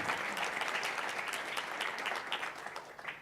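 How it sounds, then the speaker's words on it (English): Conference audience applauding for about three seconds, a dense even patter of many hands, moderately distant and faint with no voices over it. "Let's close with a round of applause for Tony and his discussion."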